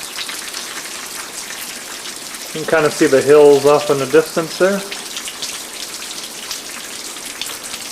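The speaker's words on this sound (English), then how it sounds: "It's been raining like this for almost 2 hours now." Steady rain falls through a late winter storm, a constant hiss of drops spattering onto outdoor ground and puddles, while someone talks briefly partway through.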